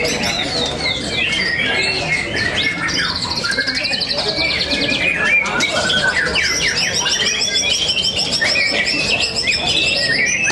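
White-rumped shama (murai) fighter birds sing in a heated competition, loud dense overlapping chirps, whistles and trills running without a break under a steady crowd murmur.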